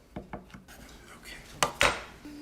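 Scone dough is cut on a silicone mat with a blade, pizza-style. A few light taps come first, then two sharper, louder scraping cuts close by.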